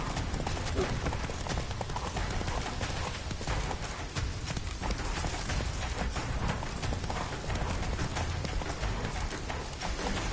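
Roach the horse gallops hard in The Witcher 3, hooves drumming in a fast, dense, loud rhythm that runs without pause.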